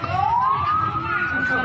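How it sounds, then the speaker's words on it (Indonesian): Ambulance siren with a steady rising wail, loud and close, as the vehicle enters a hospital gate at a funeral send-off in Pasar Rebo, with crowd murmur underneath. "Udah mulai masuk ke ambulan masuk gerbang."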